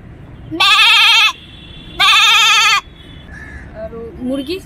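A human voice imitates a goat's bleat with two loud, drawn-out nasal cries, each lasting under a second, followed by softer wavering vocal sounds.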